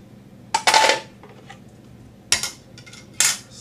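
A Waring WFP14SK commercial 3.3-litre food processor slicing, heard as three short, clattery bursts of blade and food contact separated by quiet gaps, fairly close and with no talking.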